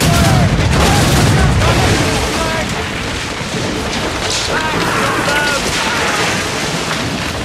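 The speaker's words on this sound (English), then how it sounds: "The Morrigan also has traditional weapons, like broadside cannons." Broadside cannons fire from a warship at sea in Assassin's Creed Rogue, heavy booms and rumbling blasts layered over a continuous roar of waves and wind, loud and dense throughout.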